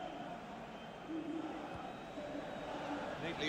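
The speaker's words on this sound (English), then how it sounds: "Crowd settling back down here in the Santiago Bernabeu Stadium." A stadium crowd at the Santiago Bernabeu in the FIFA 18 football video game, a quiet, steady murmur of distant spectators settling down, with faint swells and a low hum throughout.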